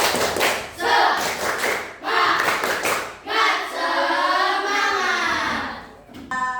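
Schoolchildren in a primary classroom clap out a rhythmic spirit chant in quick bursts of patterned claps, with a teacher's and children's voices mixing in between the clapping groups.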